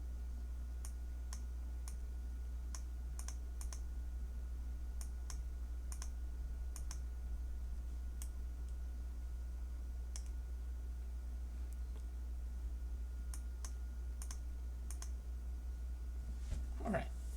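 Computer mouse clicks on a desktop during astronomy image-processing work, sharp isolated ticks repeating irregularly over a steady low hum, fairly faint and close.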